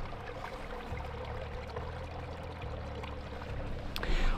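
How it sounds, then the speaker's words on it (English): Water trickling and percolating through a beaver dam in a wetland, a soft continuous bubbling flow with a faint low murmur. It is quiet and close, with no talking. "Water percolates and it trickles through dams at a much slower rate"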